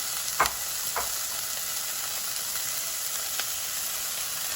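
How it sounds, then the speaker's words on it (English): Carrots sautéing in a pot for creamy lentil soup, a steady bright sizzle throughout with a few close scraping stirs near the start and a faint one later. "Now I'm gonna toss in my carrots. Get those mixed around a bit."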